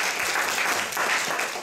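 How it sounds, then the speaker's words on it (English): An audience at a poetry talk claps warmly in a dense round of applause welcoming the speaker, steady and close throughout with no voices over it. "let's please welcome him with a big round of applause"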